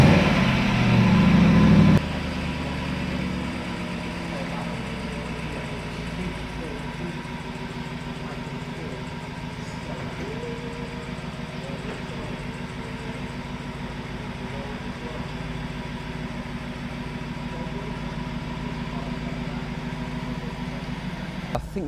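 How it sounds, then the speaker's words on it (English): A Jaguar XK engine catches with a brief loud start burst, then settles into a steady, fairly quiet idle that runs on evenly for about twenty seconds. "Now let's start the car up and check out how the Jaguar XK sounds."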